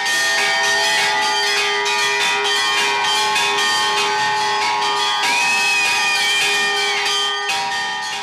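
Church bells in a bell tower rung by first-grade children at Easter, loud overlapping clangs and ringing peals sustained throughout, close and alone.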